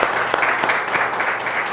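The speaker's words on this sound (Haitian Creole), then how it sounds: "Nous avons des amis pour faire un applaudissement pour les amis qui sont là." An audience at a forum on multiple sclerosis claps steadily, a dense, even patter of many hands throughout the short stretch, with no voices.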